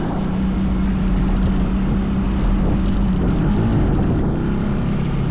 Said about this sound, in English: third gear burnout.